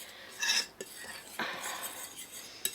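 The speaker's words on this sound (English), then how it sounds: "give it a really good stir round so all the spices and the 2 flours are all combined" A spoon stirs spices into two flours in a bowl for spicy chicken fillets, giving a few clinks and scrapes against the dish, close and moderately loud, with no talking.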